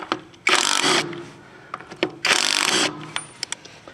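An AutoJare 20V cordless battery impact wrench works on rusted trailer lug nuts in two loud hammering bursts, each about half a second long, with small clicks and clanks of handling between and after.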